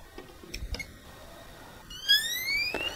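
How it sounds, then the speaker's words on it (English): Socket & See EPF PRO voltage tester sounding its alert on a proving unit, a thin high electronic tone with a few short clicks and chirps before a steadier beeping tone. "when a voltage is detected, the tip of the tester glows red and an audible tone is given"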